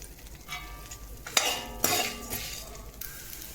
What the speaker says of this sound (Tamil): அதை ஆட் பண்ணிவிட்டு வதக்கி விடணும்.